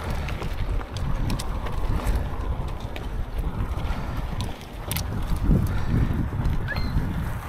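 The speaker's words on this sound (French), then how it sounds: "Il y a un petit vent fatigant" Steady wind blows outdoors during a mountain bike ride on a Trek Slash 7, a constant broadband rush with buffeting on the microphone that holds throughout, with no talk over it.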